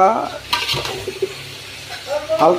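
Chopped taro stolons (loti) are stirred through fried spices in a pan, giving short, close scrapes and a soft sizzle. A voice talks briefly at the start and again at the end.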